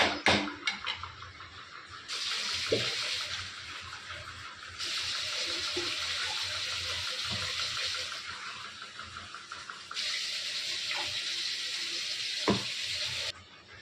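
Water goes into a simmering crab masala gravy in several hissing, sizzling bursts between quieter stretches with soft pan and stirring noises, heard close up.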